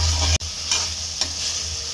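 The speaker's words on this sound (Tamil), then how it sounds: "100 கிராம் எண்ணெயில் வணக்கிடணும்." Soybeans frying in oil while being stirred, a steady close sizzle with a few sharp scraping strokes of the spoon against the pan.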